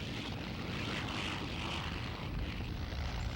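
WWII Spitfire and Hurricane fighter aircraft droning steadily with propeller engines, a continuous broad roar that holds even in level throughout, with no talking.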